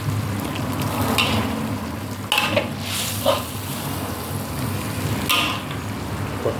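Pork sausage stir-fried with red curry paste and vegetables in a pan, a steady crackling sizzle with a few sharp spatula scrapes and knocks against the pan.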